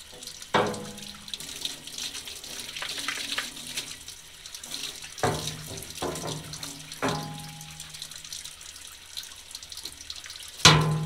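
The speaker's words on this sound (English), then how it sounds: "Rinse it off, and then hang them up here in roller storage." A paint roller is rinsed under running water at a paint-shop sink, a steady close splashing stream broken by a few sharp clatters and knocks, with no one speaking.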